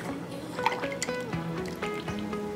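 Water trickling and dripping into a rice and coconut horchata mixture, with light liquid splashes and a few small clinks, close and steady throughout.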